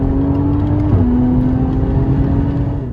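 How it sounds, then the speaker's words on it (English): A Toyota GR Supra's exhaust drones loud and close under steady throttle, with one quick shift in pitch about a second in, then a sustained, even roar with no talking. "That's what I enjoyed today, hearing the exhaust."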